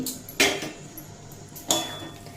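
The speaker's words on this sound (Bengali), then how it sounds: "এরপর এড করে দেব ভেজে রাখা আলু আর ঝিঙে" Fried potato and ridge gourd pieces dropped into a pan of spices, giving two sharp metallic clatters of utensil on pan about a second apart, fairly close and alone without talk.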